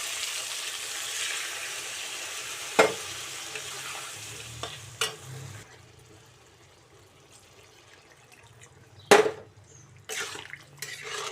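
Homemade chicken curry cooks in a pan after water is added, with steady soft bubbling and sizzling under occasional loud clanks of a spoon stirring against the pan, fading quieter midway.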